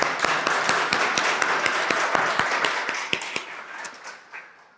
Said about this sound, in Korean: 한 번 더 축복하는 박수 하겠습니다